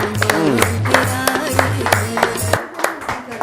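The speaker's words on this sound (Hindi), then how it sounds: "जोरदार ताली।" A crowd claps loudly and briskly for about two and a half seconds at a Hanuman devotional gathering, over a sustained musical drone, then the applause thins out.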